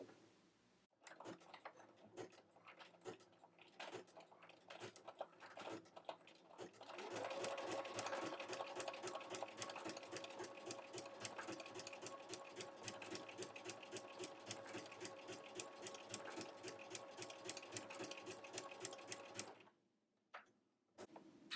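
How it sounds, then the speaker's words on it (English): A sewing machine fitted with a ruffler foot stitches pleats into fabric. It starts with slower, uneven clicking, then runs fast in a dense, steady mechanical whirr with rapid ticking for most of the run, and stops briefly near the end. "And then we will begin stitching to create our pleats."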